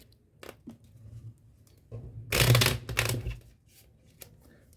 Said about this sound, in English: Right now we do a fake shuffle.